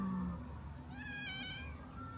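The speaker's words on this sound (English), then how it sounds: "You just heard the cat." A cat lets out one drawn-out, wavering meow, fairly faint and a little distant, over a low background hum.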